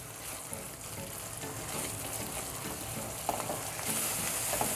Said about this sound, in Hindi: इसको हम एक से दो मिनट भून लेंगे